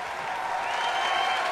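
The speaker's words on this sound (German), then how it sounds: "Das ist ganz alleine dein Applaus" Audience applause at an anniversary party, a dense, steady wash of clapping from a crowd that holds evenly loud throughout, with no voices standing out.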